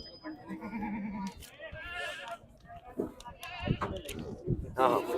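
A milking goat bleats a few times at a goat market, wavering cries mixed in with people talking nearby.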